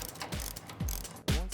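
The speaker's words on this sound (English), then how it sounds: "Now we're gonna use a 19mm wrench and a socket. We'll go ahead and tighten all that up." A 19mm socket wrench ratchets as a bolt is tightened: three quick clicking bursts spaced about half a second apart, close and crisp, with no talking.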